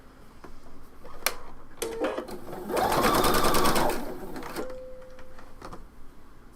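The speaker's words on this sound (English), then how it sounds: "I'm going to go ahead and do this on the sewing machine" A sewing machine runs in a short burst of rapid stitching on a shawl, preceded and followed by light clicks and handling noises, with a brief whirring hum afterward.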